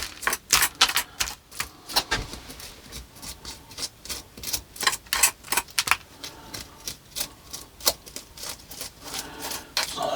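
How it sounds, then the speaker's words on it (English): A hand tool scrapes rotted moss and soil off the ground in a goat willow forest, making close, repeated rough rasping strokes in an irregular rhythm, with no talk. "It's not actually the soil I'm scraping off, it's actually the moss that's kind of rotted away."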